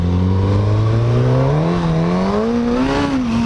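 A Suzuki GSX-S 1000 ABS motorcycle engine accelerates steadily, its loud, continuous drone climbing in pitch, dipping briefly, then rising again, with no talk over it.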